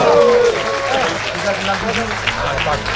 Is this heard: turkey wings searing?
no